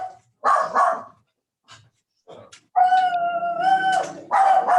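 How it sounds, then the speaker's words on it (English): Dogs bark loudly in the background in several bursts, with a sustained yelping or howling stretch near the end, while voices talk over and between them. "The dogs, they over there barking their butt off."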